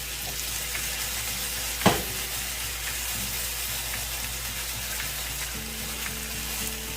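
Garlic-lemon chicken breasts sizzle steadily in a pan over medium heat as they brown, a continuous close frying hiss with one brief sharp clatter partway through and no voices.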